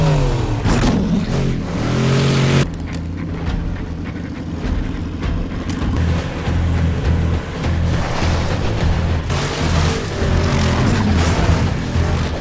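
Cars race through a chase scene from The Man From U.N.C.L.E., with engines revving and roaring at a steady, loud level under a dense, busy mix that shifts abruptly partway through.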